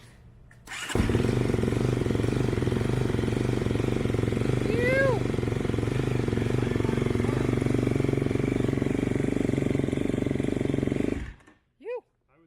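A Kawasaki KLX 110L dirt bike engine starting after sitting unused for a while, catching quickly and then running at a loud, close, steady idle with some throttle rises before shutting off, with brief voices partway through.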